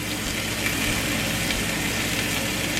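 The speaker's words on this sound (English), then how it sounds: "I turned it up really high so that I could sear it." Meat searing in a very hot pan on high heat in a smoky kitchen, a steady, dense sizzle holding constant and close for the whole stretch, with a low hum underneath and no voices.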